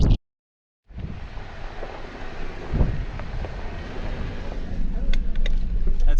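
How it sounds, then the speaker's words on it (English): Strong gusting wind at 13,000 feet on Imogene Pass buffets the microphone in heavy, rumbling roars that build after a brief silence, with a jeep nearby and voices faintly mixed in. "Wow, this wind is crazy tonight."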